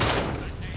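Gunfire in a Call of Duty Modern Warfare campaign, a brief loud burst of rapid shots blending into a dense rumbling roar, with a voice talking underneath.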